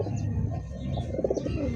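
Male pigeon cooing, a soft low throaty rolling coo repeated in quick pulses, close and fairly quiet, with no voices.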